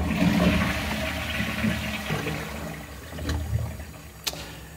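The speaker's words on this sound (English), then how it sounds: "So let me show you the flushing movement." A toilet flushing, operated by a 3D printed push button, with a loud rushing gush of water that gradually tapers off, followed by a brief click near the end.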